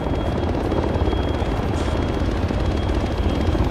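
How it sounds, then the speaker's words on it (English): A Chinook helicopter in a military video game drones loudly and continuously, its heavy rotor thrum and engine roar filling the scene without pause. "We're all getting in the Chinook."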